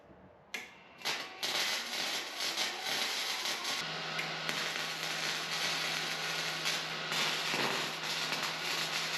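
Welding a metal frame for a laser engraver box: a steady crackling, sizzling arc that sparks up after a few sharp starts and keeps buzzing continuously, close and fairly loud, with no talking.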